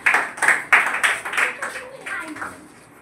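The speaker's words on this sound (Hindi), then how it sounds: "इनके लिए ताली बजा दीजिए" Students in a Class 5 school classroom clap together in a quick, rhythmic run of claps that gradually fade out over a few seconds.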